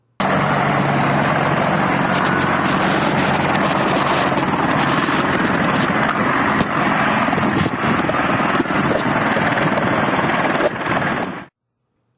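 American military helicopters at Kabul airport, a loud, continuous roar of rotors and engines close by that holds steady throughout and then cuts off abruptly, with no voices.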